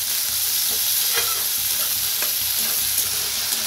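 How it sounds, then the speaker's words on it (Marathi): Sliced onion and halved tomatoes sizzle and fry in a pan for a Marathi-style masoor dal and onion dish, with a steady, loud crackle and occasional stirring scrapes throughout. "त्याच्यात टाकूया टमाटो, 2 कापून घेतली होती बघा आपण, ते बी छान असं भाजून घेऊया"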